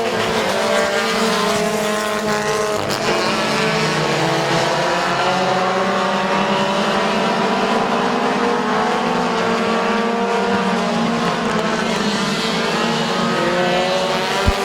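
Race cars roar around Midvale Speedway in a heat race, a loud, continuous engine drone with shifting pitch as the pack circles the track, no voices over it.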